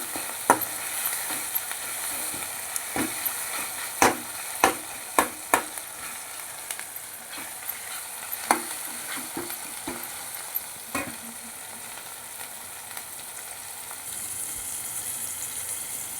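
Garlic sizzles steadily in a hot frying pan while a spoon stirs it in irregular taps and scrapes, close and fairly loud, with no voices.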